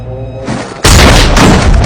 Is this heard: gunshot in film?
yes